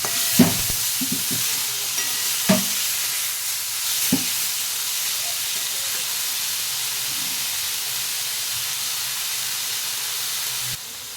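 Eggplant and bitter gourd leaves stirred in an open pan, a soft hiss of frying under a few knocking scrapes of the spatula early on, then a steady gentle sizzle.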